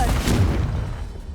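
Fiery Confringo curse blast in Hogwarts Legacy, a loud broadband boom that hits at once and then decays over about a second, standing alone.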